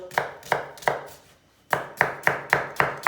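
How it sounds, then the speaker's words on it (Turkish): A knife chops onions sharply against a cutting board in an even rhythm, three strokes, a brief pause, then six more, close and crisp. "Yemeklik soğan doğruyoruz."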